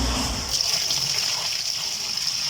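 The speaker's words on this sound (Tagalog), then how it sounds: "So nilagyan niya ng tubig, isang kabo pa." Water poured from a dipper into a White Westinghouse washing machine during a leak test after repair, a steady close gush and splash lasting a couple of seconds.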